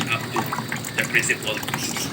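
Water gushing and splashing into PET bottles, a continuous bubbly pour heard under a person talking.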